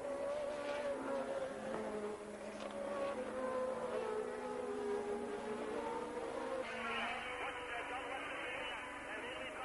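Formula One race cars circle a circuit, with a steady high engine whine that shifts pitch as cars pass at a distance, heard under continuous commentary.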